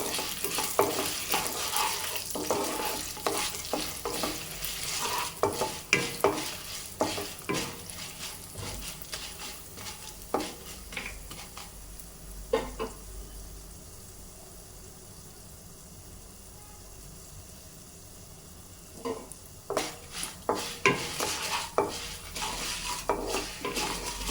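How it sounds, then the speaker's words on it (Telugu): Dried red chillies fry and get stirred in a pan while making curry leaf powder, a steady sizzle broken by repeated scraping and clinking of a utensil against the pan, with a quieter stretch midway before the stirring picks up again. "ఎండుమిర్చి ఎవరికి ఎంత కారం కావాలో అంత అవి కూడా వేసుకొని మనము ఫ్రై చేసుకోవాలి"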